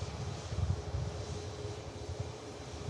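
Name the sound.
Ryanair Boeing 737 MAX landing at Manchester Airport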